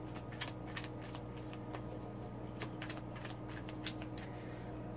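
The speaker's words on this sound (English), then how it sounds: "I gotta shuffle." Tarot cards are shuffled steadily for several seconds, a continuous papery riffling with quick flicking bursts, close and moderately loud over a low background hum, with no talk.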